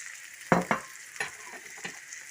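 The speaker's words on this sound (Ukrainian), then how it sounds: "Тепер я заливаю яєчком" Beaten egg seasoned with salt and mixed spices hits a hot pan with a couple of sharp sizzling bursts, followed by quieter crackles and stirring scrapes, no voices.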